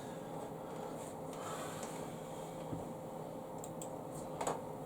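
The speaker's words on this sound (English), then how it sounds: "We'll add a bit more typing now." Sparse clicks from a computer keyboard being typed on, faint and irregular, over a steady background hum in a quiet room.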